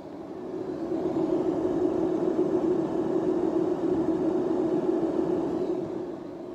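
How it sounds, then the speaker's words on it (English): Tesla Powerwall batteries running during a simulated grid outage give off a steady broadband whirring hum with a faint tonal drone, moderately quiet and unchanging, heard alone with no talk. "But you could hear these batteries right now."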